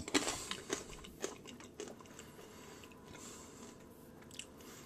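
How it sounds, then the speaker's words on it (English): Whole roasted coffee beans crunched between the teeth, a few sharp bites up front followed by softer, steady chewing close to the mouth, with no talk. "That's how you can tell good coffee. You take one of the beans, and you chew on it"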